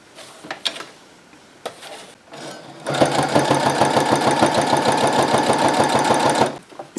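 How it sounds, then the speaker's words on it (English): A sewing machine top-stitches all the way around a small fabric Christmas ornament, running as a steady, fast rhythmic whir for several seconds after a few scattered handling clicks, loud and close with no talk. "I'm going to top stitch all the way around it and that will close up the bottom there."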